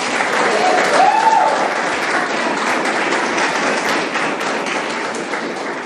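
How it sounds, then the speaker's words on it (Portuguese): A church congregation applauds together in praise, steady and dense clapping filling the room for several seconds, with a faint voice briefly rising over the crowd. "dê um aplauso ao Senhor Jesus."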